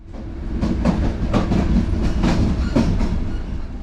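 A CFR Călători train from Hungary to Romania rumbles steadily along the tracks with a rhythmic clickety-clack of wheels over rail joints, loud and continuous from inside the first class carriage.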